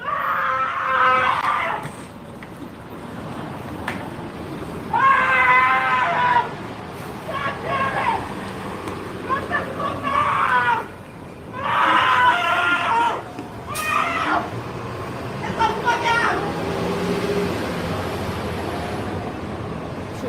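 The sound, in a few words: woman screaming during a confrontation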